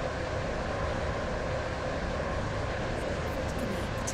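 A five-coach passenger train in Roblox Stepford County Railway rolls toward a station with a steady, loud broadband rumble and rushing noise that holds evenly from start to finish, with no voices.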